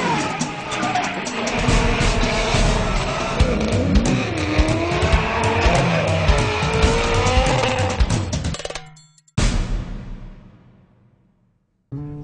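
Purpose-built Scion tC drift cars at El Toro, engines roaring while tires squeal and skid continuously for several seconds, loud and near, before cutting to a brief fading pass.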